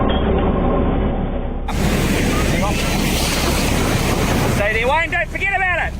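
Giant ocean waves surge against seaside rocks where a fisherman stands, a loud roaring wash of surf with heavy wind buffeting the microphone, and a person shouting over the water near the end.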